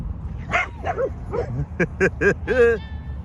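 Dogs yip, bark and whimper in a quick series of high, tonal cries, fairly close and clear, ending in a drawn-out whine.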